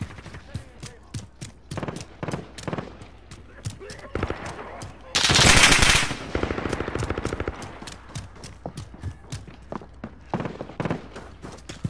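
Rapid automatic and single gunshots crackle through a Call of Duty match, with dense bursts, a loud sustained blast near the middle and scattered shots afterward, while a player talks in places.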